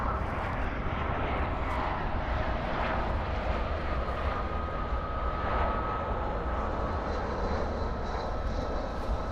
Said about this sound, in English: We've also got the 747 off to Brussels at Singapore Airlines cargo, 7951. Starting its taxi.